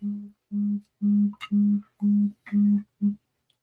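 A phone signals an incoming call late at night with a rhythmic electronic buzz, seven short, evenly spaced low pulses, close and clear with no talking over them.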